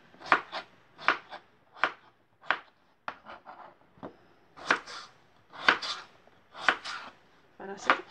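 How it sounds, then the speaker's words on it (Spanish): A knife chops peeled potatoes into medium cubes on a cutting board in a home kitchen, making a series of sharp, close, irregular knocks with short pauses between clusters of cuts. "Ya terminé de picar las papas"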